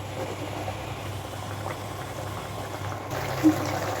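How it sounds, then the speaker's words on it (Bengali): Boal fish curry simmering in a pan, a low steady bubbling hiss of thick gravy that carries on evenly throughout at a soft, close level, with one small pop near the end. "মাছগুলো দেওয়ার পরে মিনিট 5 খুব ভালোভাবে এটাকে ফুটিয়ে নেব।"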